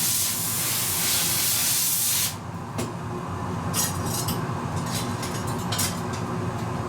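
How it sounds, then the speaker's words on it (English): A loud, steady hiss of compressed air blows on hot glass during glassblowing and cuts off after about two seconds, followed by quieter hissing and a few faint clinks of glass. "A little bit of compressed air to cool this."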